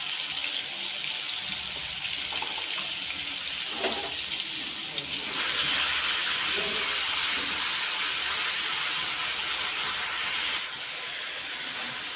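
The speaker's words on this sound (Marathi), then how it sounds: "तेल तापलं की आपल्याला यामध्ये ठेसा टाकायचा आहे हिरवी मिरचीतला तेलामध्ये टाकून घेऊया" Green chili thecha hits hot oil and fries with a loud, steady hiss that swells midway and then settles to a quieter sizzle, close and continuous with no talking.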